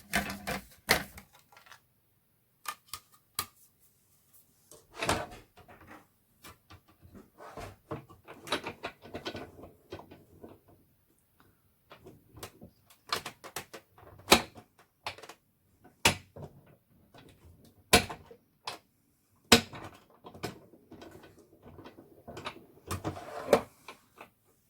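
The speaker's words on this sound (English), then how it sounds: "I just need to run those through the die cutting machine with my 2 layers of card" A die cutting machine running two layers of card through its rollers, irregular clunks, clicks and rattling mechanical bursts, some loud and close, separated by quiet gaps, no talk.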